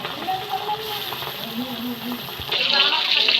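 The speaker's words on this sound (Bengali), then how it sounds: "বাকি মাছগুলো আমি একইভাবে ভেজে নেবো।" Catla fish frying in oil: a moderate sizzle sits under faint background voices and tones, then swells into a louder, brighter hiss for the last second.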